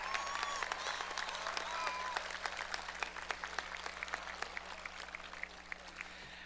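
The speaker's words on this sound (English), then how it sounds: "Let's give him a round of applause." A graduation audience at Parkersburg High School gives a round of applause, with individual claps audible as a sustained wash that slowly thins toward the end, while faint tonal sounds and a steady low hum run underneath.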